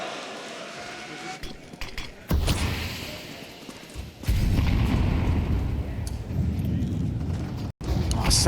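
Grenades bursting in a Counter-Strike match at a major esports tournament, heavy booms that hit abruptly and leave a sustained rumbling roar, with a commentator talking over the noise.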